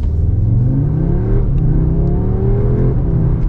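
An Audi S3 engine accelerates hard up to 100 km/h. The loud, steady roar climbs in pitch, drops briefly at gear changes, then climbs again. No one speaks.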